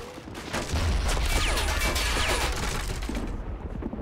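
Mortar fire in the online war game Men of War, a Germany versus USA battle: muffled booms and a rumbling barrage, with whistling shells descending over the steady din of battle.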